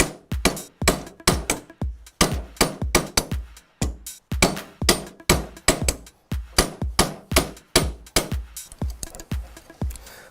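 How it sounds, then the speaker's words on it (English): Sharp metal hammer strikes ring out as bangle ends are shaped on a Durston forming die, dozens of quick, loud, close blows in an irregular steady rhythm, with no talking. "We basically would measure in about 40mm and start hammering from"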